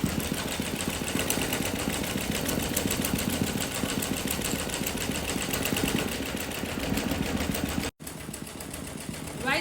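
Embroidery monogram machine stitching the second colour of a design, a steady rapid mechanical chatter running continuously and close, with a brief drop-out near the end before it resumes.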